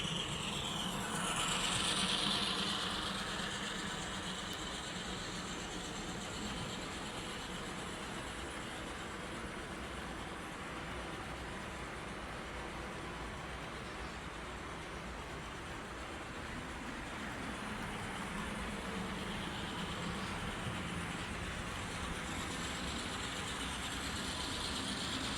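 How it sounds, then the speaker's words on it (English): Model railroad train circling a layout with a long grade and yard, a steady low mechanical rumble and clicking of wheels running continuously at moderate distance, with no talk. "as the train loops around on itself, it'll start the journey back down the grade, back into Chicago Yard"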